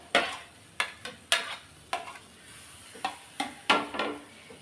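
Mashed banana is stirred in a pan for a sweet, a spoon scraping in a series of about ten distinct clinking strokes at an uneven rhythm, fairly quiet and close, with no talk.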